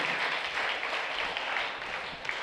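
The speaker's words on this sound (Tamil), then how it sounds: "அன்போடு வருக வருக என்று நாம் கைத்தட்டி வரவேற்போம்" A church congregation applauding to welcome guests during a novena Mass at a shrine, steady dense clapping from many hands filling the space throughout.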